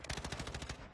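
Rapid automatic gunfire from a Call of Duty match, a steady burst of about a dozen closely spaced shots lasting roughly a second, loud and close with no talking over it.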